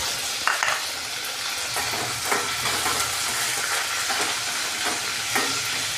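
Green chillies sizzle steadily in hot oil in a pan for carrot rice, with a continuous crackling frying hiss and a few scraping stirs, close and alone with no talk.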